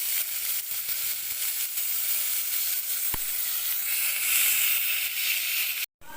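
Chopped tomatoes hitting frying onions in ghee, a loud, continuous hiss and sizzle holding steady for several seconds, broken by a single faint tap midway and a brief dropout near the end.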